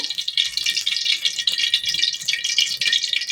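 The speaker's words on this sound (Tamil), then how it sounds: "கடுகு கொஞ்சம் போட்டேன்." Mustard seeds crackling and popping in hot oil for a Tamil sundakkai vathal kuzhambu, a steady dense sizzle with scattered sharp pops, close and continuous with no speech.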